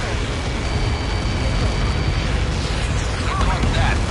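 A missile impact explodes in the Ace Combat 7 flight game, heard as a dense, sustained rumbling roar that stays loud the whole time, with engine-like noise underneath and a voice speaking over it.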